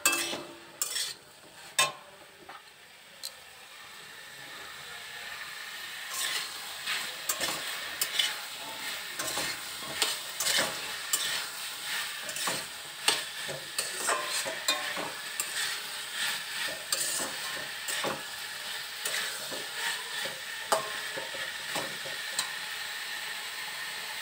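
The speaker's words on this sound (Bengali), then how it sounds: "নাড়াচাড়া করে নেব।" Tomatoes cooking with turmeric and salt in a pan, with a quiet steady sizzle and scattered close clicks and scrapes of a spoon stirring against the pan, no voices.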